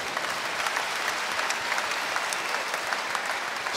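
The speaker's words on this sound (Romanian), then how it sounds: "Aplaudați și pe ei." A church congregation at a tenth anniversary gathering in Bucharest claps steadily, a dense even patter of many hands at moderate distance with no voices over it.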